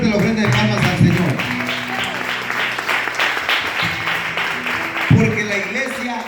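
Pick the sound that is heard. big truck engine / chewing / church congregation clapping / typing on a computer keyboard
church congregation clapping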